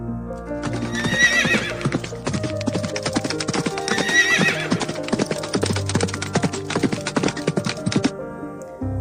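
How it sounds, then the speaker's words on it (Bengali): Horse hooves clip-clop fast and steadily in a galloping rhythm, joined by several loud neighs and whinnies, close and clear throughout with no talking. "ঘতে ঘোড়া, ঘোড়া ছুটে অনেক জোরে।"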